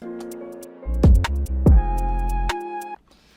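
Deep 808 sub-bass tones glide downward in pitch, staying in key, two sliding booms over a sustained synth chord with hi-hat ticks, loud and electronic, in a drill beat.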